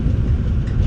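A Metra commuter train rolls past the BNSF freight yard at Eola, Illinois, producing a loud, close, continuous low rumble of wheels and engine throughout this brief moment.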